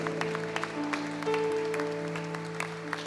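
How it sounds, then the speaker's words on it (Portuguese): Church congregation applauding during a celebration service, with scattered, moderately faint hand claps over sustained organ or keyboard tones. "Queria te convidar para que se colocasse de pé, aplaudindo ao Senhor"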